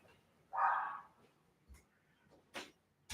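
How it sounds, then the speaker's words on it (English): A single dog barks once in a short burst at moderate distance in a quiet indoor room, followed by a couple of faint knocks and thumps. "I have to close the door because here goes the dog"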